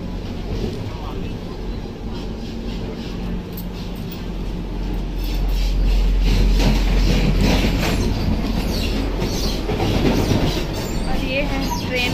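Inside a moving Vande Bharat express train, a continuous low rumble and rail clatter fill the cabin, swelling louder midway, with no clear speech.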